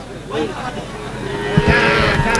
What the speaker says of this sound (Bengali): এটা ষাঁড় বাচ্চা